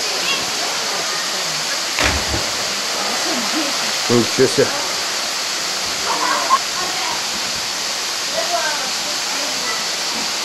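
A waterfall in the Sochi arboretum gives a steady broadband roar throughout, with people speaking briefly and a few light knocks and footsteps over the constant rush.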